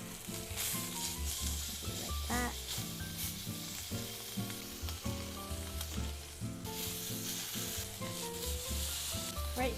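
A sous vide steak sears in a hot pan with a bright continuous sizzle, broken by clinks and scrapes of a utensil against the pan, close and with no voices.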